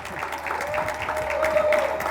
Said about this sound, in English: Give a round of applause to Glenn Gillis from Sea Monster.